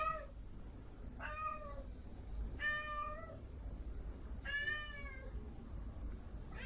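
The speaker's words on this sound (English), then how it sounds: "This cat is so jealous. Always meowing as soon as I get on this cam." A jealous cat meows four times at spaced intervals, each a drawn-out, wavering cry, close and clear over a low background hum.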